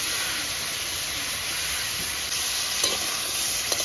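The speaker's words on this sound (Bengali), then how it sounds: "ভালো করে কষিয়ে নেব।" Salt and turmeric being stirred and fried in a hot pan for a rainy-day khichuri and sour mixed vegetable curry, giving a steady close sizzle and hiss with faint scraping, with no voices over it.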